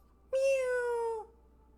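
A single clear cat meow, close and fairly loud, lasting about a second against near silence.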